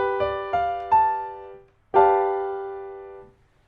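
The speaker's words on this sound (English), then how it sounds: "to being a ninth chord, which sounds like this" Three plucked notes ring out in quick succession, then a full G ninth chord sounds and sustains for about a second and a half before fading, with no talking.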